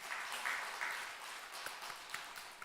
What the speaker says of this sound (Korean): 우리 박수를 크게 한번 격려하겠습니다.